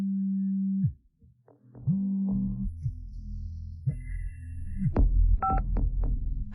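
A telephone number dialed late at night: dial tone cuts off, returns, then a quick run of close, clear keypad tones in an irregular sequence, ending over a low throbbing hum.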